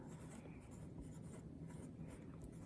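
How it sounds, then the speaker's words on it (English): A pencil writing a name on colored construction paper, with close, dry scratchy strokes in quick bursts. "grab a pencil and write your name"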